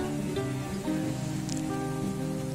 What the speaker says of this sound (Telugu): బయట ఫుల్ వర్షం పడుతూ ఉందన్నమాట